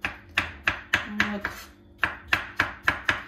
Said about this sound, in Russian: Потом просто-напросто я нарезаю эту мякоть кубиками.